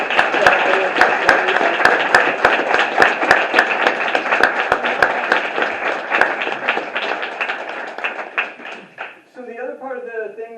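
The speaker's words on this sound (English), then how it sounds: "let's just have one more round of applause just for all of the artists tonight" An audience gives a round of applause for the artists at a university creative writing and art contest event, loud, steady clapping that gradually thins and fades before a voice starts speaking.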